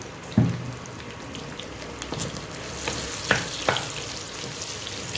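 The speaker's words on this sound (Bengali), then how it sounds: "পটলটা একটু ভাজা ভাজা হোক।" Pointed gourd pieces frying in oil with a pinch of turmeric, a soft steady sizzle with a few sharper crackles and a scrape of stirring near the start, close and fairly quiet.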